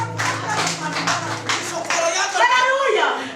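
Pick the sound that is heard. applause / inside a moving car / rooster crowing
applause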